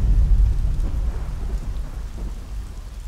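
Heavy rain pours steadily with deep, rumbling thunder rolling underneath, a dense, close wash of noise with no voices.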